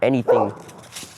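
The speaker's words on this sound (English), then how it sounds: "That's my dog. She's barking at my mom." A pet dog barks indoors at a family member, two quick sharp barks close by, followed by someone saying a word.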